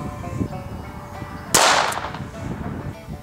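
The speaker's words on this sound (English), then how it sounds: "CCI 22 long rifle, 36 grain hollow point." A single CCI .22 Long Rifle 36-grain hollow point round fired into expired body armor taped over a torso target, one sharp close crack with a short decaying tail over steady outdoor background noise.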